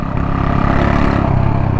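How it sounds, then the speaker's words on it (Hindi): Hero Honda Splendor motorcycle cruising at around 50 km/h, its steady mid-pitched engine drone mixed with road rumble and wind, close and continuous throughout. "लेकिन चल रही है बाइक 50 के शुरू पे।"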